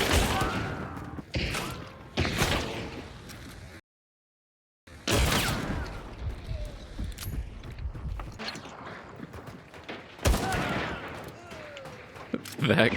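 Shotgun blasts from a pocket shotgun in the video game Hunt: Showdown, several sharp loud bursts spread across the stretch with a brief silent gap, over a busy in-game background with voices.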